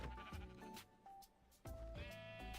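Synthetic sheep bleats ring out a couple of times amid game music and effects, clear and mid-loud.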